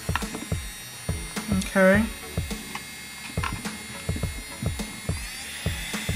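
A Melodysusie SC320F electric nail drill running at high RPM: a thin, steady high-pitched whir under rapid clicking taps, close by, with a short spoken word partway through.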